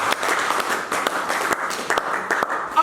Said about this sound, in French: Acclamons, acclamons.